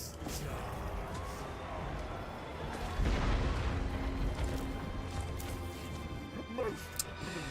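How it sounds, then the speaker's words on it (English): Hell cannons fire in a Total War: Warhammer 3 battle, producing low, rumbling booms that swell midway through a continuous din of battle noise, with a voice talking faintly underneath. "Yeah, they're hell cannons."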